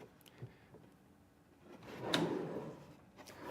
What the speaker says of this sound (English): we're going to make sure our drawer is seated in here